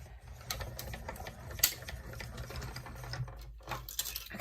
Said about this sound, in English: I've got my Stampin' Cut mini over here,